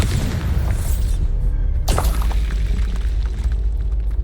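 Bombarda blasting spell in Hogwarts Legacy bursts into a loud, booming explosion with a sharp crack, followed by a rumbling, crackling tail over steady low game ambience.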